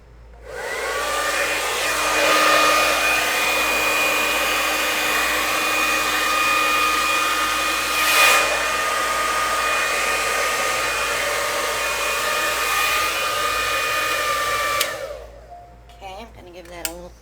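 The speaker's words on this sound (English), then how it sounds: "I'm going to be turning my hair dryer on, so sorry for the noise." A hair dryer blows steadily with a loud, even whirring hiss for about fifteen seconds, then cuts off abruptly.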